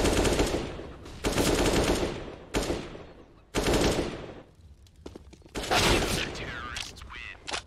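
AK rifle bursts in a Counter-Strike match on the Inferno map, several loud rapid-fire volleys separated by brief gaps, with faint speech-like sound between them.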